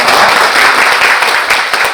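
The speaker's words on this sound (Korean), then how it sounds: "감사의 박수 한번 부탁드리겠습니다" Sustained audience applause of thanks at an education forum, a dense steady wash of many hands clapping loudly with no pauses.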